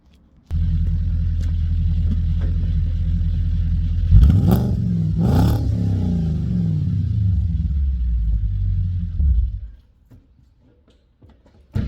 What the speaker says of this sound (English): That's what the S5 sounds like. It's pretty cool. Really loud.